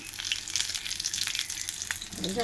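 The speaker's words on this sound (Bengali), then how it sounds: "বড়াটা পুরো ভাজা হয়ে গেছে" Water lily flower fritters fry in hot oil, giving a continuous close sizzle with light crackling and a few brief pops, with no talking.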